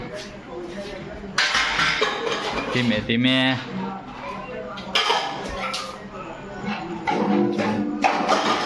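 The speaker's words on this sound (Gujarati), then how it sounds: "વાસણનું કામકાજ ચાલુ છે" Dishes and utensils being washed and scrubbed, with clattering metal pots and clinking cutlery in irregular bursts close by, while people talk over the clatter.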